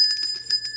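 A bell button on a non-stress test fetal monitoring machine sounds a quick run of bright, electronic chime-like rings across under a second, clear and close.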